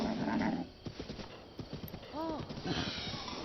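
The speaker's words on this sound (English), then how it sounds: "We got a horse, people." Horse hooves clip-clop in The Legend of Zelda: Breath of the Wild, a close, quick hoof rhythm heard with a brief neigh and game ambience, and a voice talking over the start.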